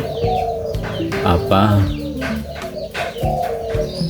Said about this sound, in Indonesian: Ini induk tekukur blorok langkung.